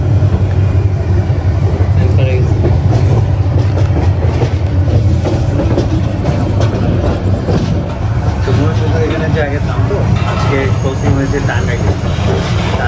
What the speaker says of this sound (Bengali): ক্রসিং হবে একটা ট্রেন আছে